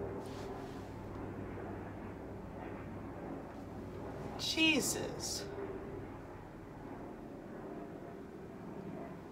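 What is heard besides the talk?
low-flying plane or helicopter overhead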